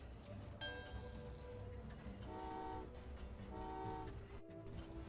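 A train arrives in the puzzle game Train Valley 2, with a bright horn toot early on and two repeated chiming tones later over a low, steady rumble of game ambience.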